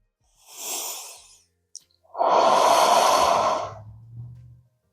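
Slow, deep yoga breaths drawn down into the stomach: a soft inhale, a brief catch, then a long, louder airy exhale ending in a low hum, close and alone.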